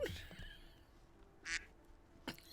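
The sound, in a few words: duck quack sound effect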